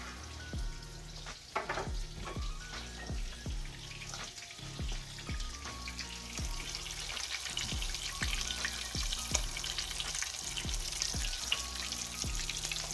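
Sausages fry in a little oil in a pan, a continuous soft sizzle overlaid by regular sharp clicks or taps, close and moderately quiet with no talk.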